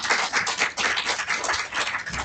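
Congregation in a church applauding, a short burst of dense, steady hand clapping at moderate distance, lasting about two seconds without a break.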